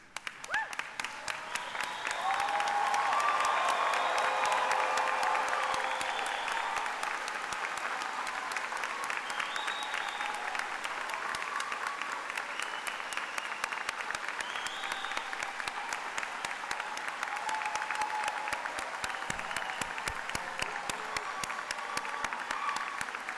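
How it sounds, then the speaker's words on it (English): A standing commencement crowd gives long, sustained applause that swells early and then holds steady, with a few faint voices and cheers mixed into the clapping throughout. "So let's stand as we are able and share in a roaring applause."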